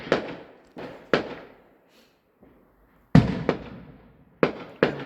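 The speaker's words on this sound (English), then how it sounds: "fireworks and lots of bangs" Fireworks banging at night: several sharp, loud bangs in irregular clusters, each followed by a decaying rumble, with short quiet gaps between bursts.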